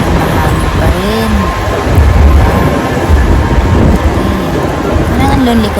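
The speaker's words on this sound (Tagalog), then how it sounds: "Mahangin pa rin." Steady wind buffeting a microphone outdoors in Cozumel, Mexico, a loud continuous rumble and roar with gusts that swell and ease, with a voice briefly audible underneath.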